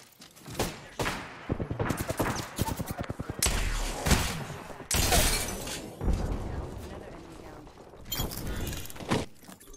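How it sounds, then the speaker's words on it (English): Peacekeeper shotgun fire in Apex Legends, sharp heavy blasts spaced apart amid other rapid gunfire and impacts, with players talking over the fight. "I have this Peacekeeper, man, it's like my only good gun."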